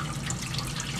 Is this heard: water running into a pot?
yes